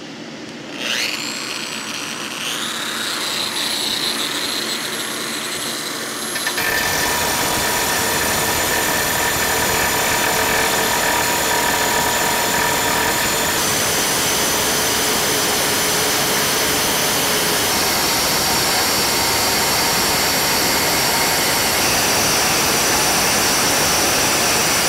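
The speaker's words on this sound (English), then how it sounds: "when you're cutting dry, you definitely want to use a vacuum. Use your shop vac to get all that dust out of there" A shop vacuum runs during a dry marble cut for a charcuterie board. It starts with a rising motor whine, then a loud, steady roar of vacuum and saw continues, with no talking.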